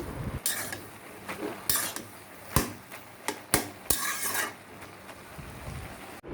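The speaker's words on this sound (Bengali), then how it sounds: "এইদিকে শাকটা একটু নেড়ে চেড়ে আবার ঢেকে দিলাম।" Greens in a pot are stirred with scraping, clinking metal strokes in irregular bursts, then covered with a lid, close and fairly loud, with no voices.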